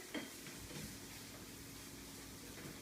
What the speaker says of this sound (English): we're sizzling back here